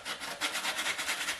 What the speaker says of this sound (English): Let me try with the sandpaper, 150 grit.